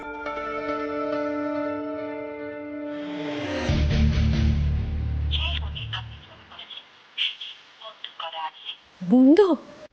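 A phone call being placed in a Bengali detective drama: a sustained electronic telephone tone sounds, then fades into a low rumble and scattered beeps, with a voice speaking briefly near the end.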